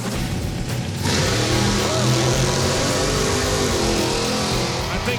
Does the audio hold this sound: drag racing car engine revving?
yes